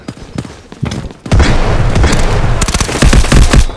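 Gunfire in the mobile shooter game Delta Force: a few separate shots at first, then a dense, loud, sustained burst of rapid automatic fire with heavy low thumps that runs to the end.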